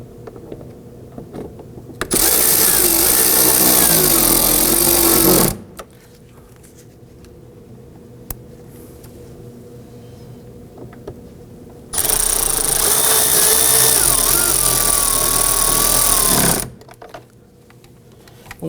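Power driver running lower screws into a 2001-2009 Volvo S60 front door panel during a door check replacement, two sustained loud bursts of whirring separated by a quiet pause.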